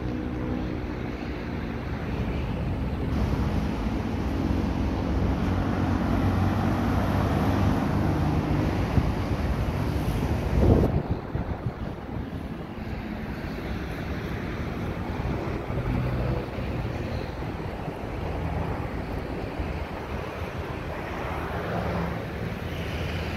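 Wind blowing across Manila Bay beach with its dolomite sand: a steady, loud broadband rush that holds for over twenty seconds, with a brief gusty bump near the middle and no one talking.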